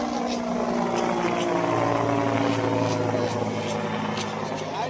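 A helicopter at Juhu beach in Mumbai gives a steady, continuous rotor and engine drone at moderate distance, with no talking over it.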